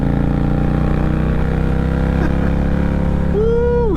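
Indian Challenger motorcycle riding along at a steady cruise, with a continuous droning engine hum and layered harmonics, rising slightly near the end. No one speaks.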